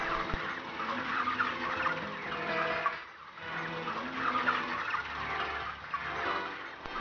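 Six broiler hens crowd onto a weighing scale, giving off a steady, busy wash of clucking and squawking that hardly lets up, close and fairly loud throughout.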